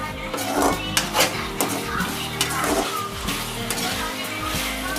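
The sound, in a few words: stirring chicken in a pan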